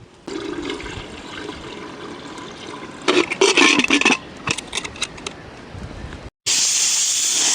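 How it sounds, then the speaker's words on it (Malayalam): Water goes into a pressure cooker holding a whole guinea fowl: a low hiss, then a burst of splashing pours and gurgles, ending in a sharp loud steamy hiss. "ഇനി നമുക്ക് കുറച്ച് വെള്ളം കൂടെ ഒഴിക്കാം."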